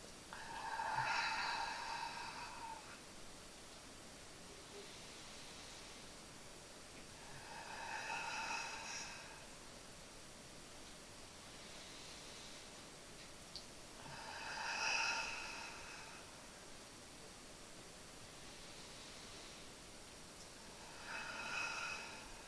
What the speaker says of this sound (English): Breathe out all the air as much as you can